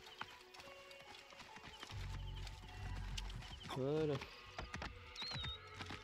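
Horse hooves clip-clop at a steady trot in Assassin's Creed Origins, set in ancient Egypt, with a brief whinny from the horse midway, heard under game sounds and someone talking.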